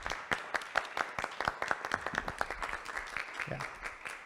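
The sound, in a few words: audience applause after a presentation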